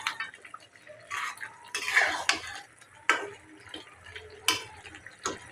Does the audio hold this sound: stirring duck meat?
yes